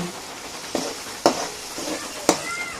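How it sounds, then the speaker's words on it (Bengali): Spices and tomato stirred and sautéed in a pan, with a continuous sizzle under three sharp, close scrapes of a spatula spaced irregularly. "ভালো করে নেড়ে চেড়ে কষিয়ে নিব মশলাগুলো"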